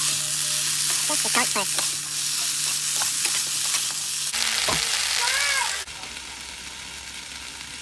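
Plain mixed vegetables frying in a pan with salt, a steady close sizzle broken by scraping stirs, with a brief spoken remark early on and the sizzle dropping lower near the end.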